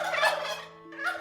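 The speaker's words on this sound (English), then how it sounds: "Turkeys." A turkey gobbles close by in one loud, rattling burst, then starts a second call that is cut short.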